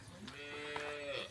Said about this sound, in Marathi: पाहून बघा गाय वराडली